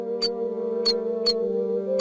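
A box of live snakes moving, a sound effect from the game Monkey Island 2: LeChuck's Revenge, with short high squeaky scratches repeating at an even pace over a steady humming musical drone.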